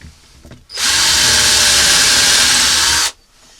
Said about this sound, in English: it's amazing what we can do with a fully charged drill